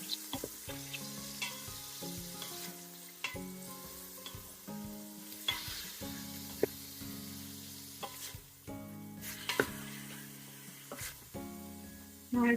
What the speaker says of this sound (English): it started sizzling now. So just stir it until all the bits of meat is sealed.